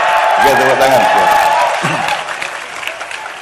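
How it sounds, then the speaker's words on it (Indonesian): An audience breaks into a dense round of applause, loud and close, with voices talking over the clapping before it thins out. "Ya, tepuk tangan."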